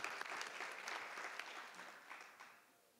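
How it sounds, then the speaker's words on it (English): An audience at a vendor panel event bursts into applause, a dense patter of clapping hands that starts strong and slowly tapers off over a few seconds, heard at a distance in a room. "Everybody, a round of applause for Bramari."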